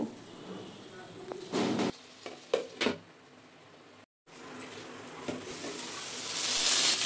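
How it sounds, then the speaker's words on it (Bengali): Potatoes seasoned with salt and turmeric fry in a pan, giving a soft steady sizzle with a few louder stirring scrapes and clatters, a brief cut, then a brighter hiss that swells toward the end. "5 মিনিটের জন্য ঢেকে রেখে আলুগুলোকে হালকা লাল লাল করে ভেজে নেব"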